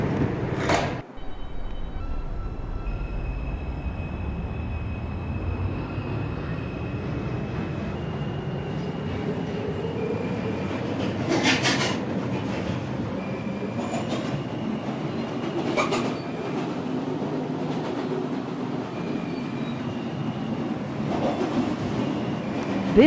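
A New York subway 4 train runs between stations bound for Woodlawn, with a steady rumbling roar, a rising motor whine as it speeds up, and occasional sharp rail clatter and squeals, heard from inside the car.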